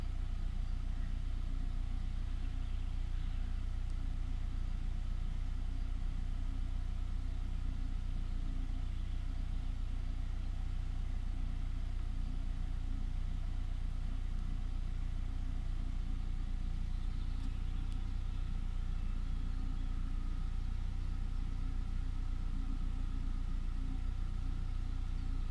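A petrol VW Passat B5 sedan from 2000 with a 1.6 MPI engine idles steadily with a low, even hum that holds throughout, without any talk.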